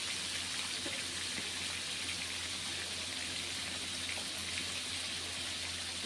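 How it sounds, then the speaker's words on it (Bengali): Cut, washed potatoes frying in hot oil make a steady, dense hiss at low level, unbroken and without talk. "এখন ওই তেলের মধ্যেই আমি দিয়ে দিচ্ছি এখানে দুটো আলু কেটে ধুয়ে জলটা ঝারিয়ে রেখেছি, আর ওই তেলে কষিয়ে নিচ্ছি"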